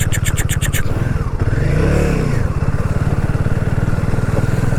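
A motorcycle rumbles close and loud through a water crossing on a mountain ride, the engine droning steadily with a rising and falling surge midway, and a brief rapid buzzing pattern at the very start.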